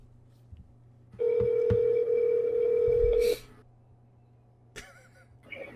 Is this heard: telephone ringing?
yes